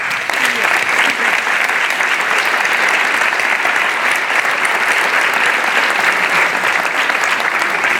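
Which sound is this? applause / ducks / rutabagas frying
applause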